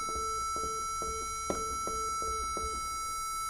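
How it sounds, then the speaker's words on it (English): A sustained electronic metronome tuning tone for tuning a violin holds steady while soft regular clicks tick beneath it, quiet and alone. "Most electrical metronomes have the option of generating a sound"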